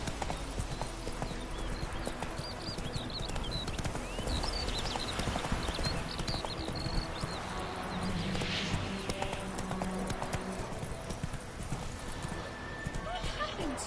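Roach, the horse in a Witcher video game, gallops with steady, rapid clip-clop hoofbeats, with occasional snorts and whinnies under someone talking throughout.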